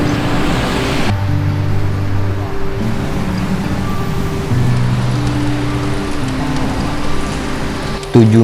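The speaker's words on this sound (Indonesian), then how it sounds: "air hujan yang berhamburan di langit masih membasahi tanah Jakarta" Rain falling in Jakarta during a late-afternoon outdoor climbing competition, a dense steady hiss of rain with low tonal hums and occasional faint background sounds running beneath it.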